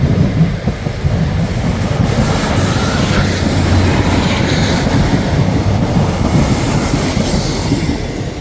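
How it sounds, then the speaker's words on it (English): A Northern passenger train runs fast through Ardwick Station, taking the corner at speed: a loud, close, sustained rumble of wheels on rail with steady rolling noise and faint squeal, continuous throughout with no voices. "Northern coming through."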